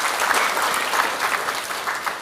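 Audience applause for a speaker at an evening public discussion forum, a dense, steady clapping from a sizeable crowd that fills the whole moment at even loudness with no voices on top.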